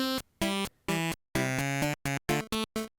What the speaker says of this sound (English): What did Wario Land music sound like before 4?